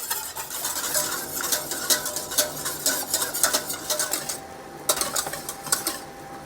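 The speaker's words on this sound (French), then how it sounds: "on remue pour pas que ça accroche dans le fond de la casserole" A spoon scrapes and taps around a saucepan of thickening sauce for pastéis de nata in quick, irregular strokes, fairly quiet and close, with no talking.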